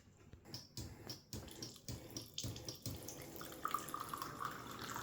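Freshly filtered water from a homemade reverse-osmosis system with an Arduino-controlled pump, splashing into a container after a few hesitant spurts, then settling into a steady, close trickling pour.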